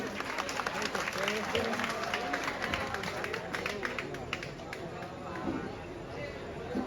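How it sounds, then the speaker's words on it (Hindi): A crowd applauds at a mushaira, an Urdu poetry recital in Kamptee, India. The clapping is dense, steady and somewhat distant, mixed with crowd chatter and voices throughout. "महशर आफरीदी साहब के इस्तकबाल में एक मरतबा फिर आप तालियां बजाएं"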